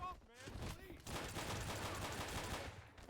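Gunshots in the VR game Nightclub Simulator, a dense burst of rapid fire filling most of the moment after a brief lull, fairly quiet overall.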